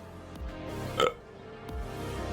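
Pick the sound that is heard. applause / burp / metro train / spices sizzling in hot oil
burp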